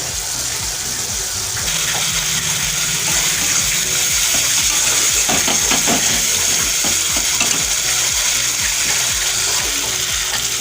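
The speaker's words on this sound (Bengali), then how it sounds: "মশলা আমার কষানো হয়ে গেছে" Prawn curry spice paste with a little water frying and being stirred in a pan, with a steady close sizzle and repeated scraping strokes throughout, no voices.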